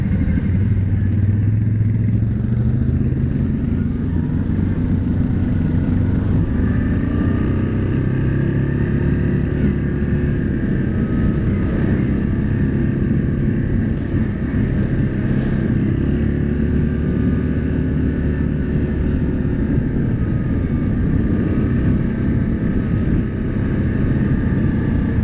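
An ATV or UTV engine runs steadily after a 12-volt jump start, a close, even mechanical drone that holds throughout with light rattling on top.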